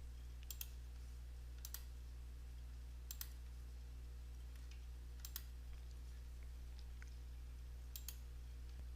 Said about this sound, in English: So I'll click on this line 3 more times.